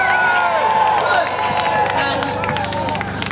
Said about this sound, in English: let's have a cheer for each of these